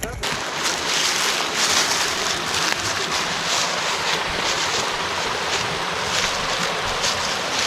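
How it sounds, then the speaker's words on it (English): Amicalola Falls roars as a broad, steady wash of rushing water, loud and constant throughout with no pauses. "It sounds like a waterfall."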